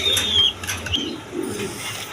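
A pair of Bantinet pigeons cooing on a pigeon farm with nests and eggs, soft low repeated coos close by alongside faint wing and chirp sounds.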